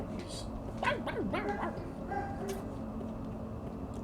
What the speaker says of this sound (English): I'm really sorry for the barking, by the way.